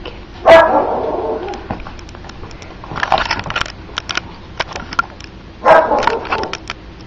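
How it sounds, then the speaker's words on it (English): Two short, sharp barks from a 13-week-old puppy a few seconds apart, close by, with faint yips and rustling in between. "Who's that barking?"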